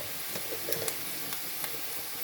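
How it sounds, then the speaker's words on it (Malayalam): Onions sizzle and fry in a pan, a steady soft crackle with a few brief sharper pops and stirring scrapes, moderately quiet with no talking. "സവോള ഇവിടെ ഒരുവിധം നല്ലപോലെ വഴന്നു വന്നിട്ടുണ്ട്."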